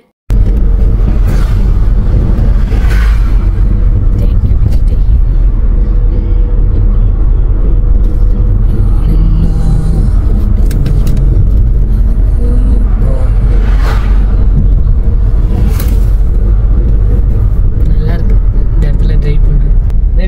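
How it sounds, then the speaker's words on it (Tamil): A car drives steadily along a road through a pine forest in Ooty, its engine and road rumble loud and continuous throughout, with a few brief louder swells along the way. "அதில் ஜாலியாக என் ஹஸ்பண்ட் ட்ரைவ் பண்ணிட்டு அப்படியே போயிட்டுருக்குறாரு."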